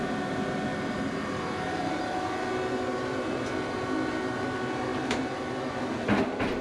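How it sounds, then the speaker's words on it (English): Aboard the Queensland Rail Inlander train just before departure, a steady low idling rumble and hum fills the carriage, with a few faint clicks and knocks near the end. "As the train is about to leave"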